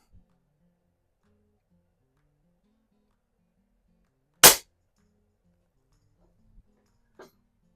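A Crosman Vapor Max air rifle fires a single sharp, loud crack at a paintball target. Quiet surroundings come before and after the shot, with a couple of faint small knocks following it.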